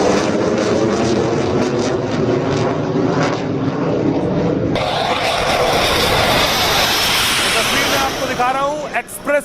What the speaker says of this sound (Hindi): ये भारतीय एक्सप्रेसवे पर आप देख रहे हैं रफाल विमान उतरा था